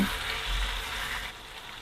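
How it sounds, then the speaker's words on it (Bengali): Tengra fish cooking in a pan over medium-low heat gives a steady, dense sizzle that stays close and even, easing slightly toward the end, with no voices. "মিডিয়াম লো হিটে আমি আরও পাঁচ মিনিট মতো মাছটাকে রান্না করে নিব"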